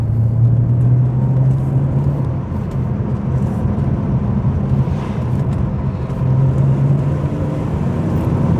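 A BMW 330Ci Clubsport accelerates on an open road, its engine a steady, loud low drone with a faint rise in pitch, heard continuously from inside the car.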